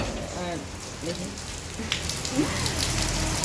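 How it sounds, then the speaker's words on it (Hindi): Rain falling in Madhubani village during the monsoon, a steady broadband patter on surfaces throughout, close and fairly loud, with a few faint voices and bird-like chirps partly buried beneath it. "मधुबनी में बारिश हो रही है।"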